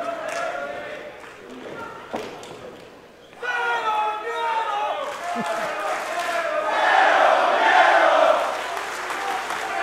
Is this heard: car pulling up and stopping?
no